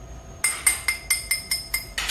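Porcelain dishes clink repeatedly on a table at a Korean home-style set-meal restaurant in Gwangju, about eight sharp, evenly spaced ringing taps, close and clear over a quiet background.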